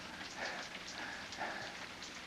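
Steady rain falls outside, a soft even patter with gentle swells, faint and continuous, heard alone with no voices.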